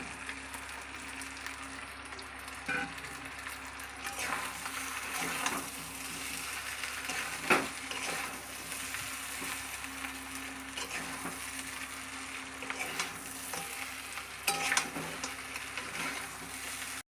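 Potatoes fry in hot oil for a katla fish head muri ghonto, giving a continuous close sizzle broken by a few sharp stirring scrapes and clinks in the pan.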